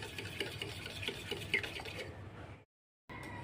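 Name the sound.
mixing milk into beaten eggs for egg pudding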